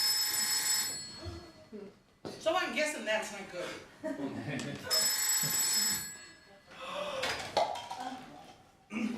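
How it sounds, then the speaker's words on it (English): An old 20th-century mobile phone, a basic non-smart handset, rings indoors in two loud bursts, with people talking between and over the rings. "It's just my 20th century dumb phone."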